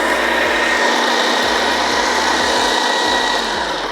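Blender coarsely grinding garlic, shallots and red and green bird's-eye chilies, a loud steady motor whir running continuously with faint rhythmic knocking underneath, no voices.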